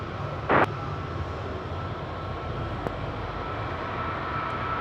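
A TUI airliner departs Madeira Airport for Frankfurt, its engines a steady, distant broadband roar that holds evenly throughout, broken by one short burst of wind-like noise near the start.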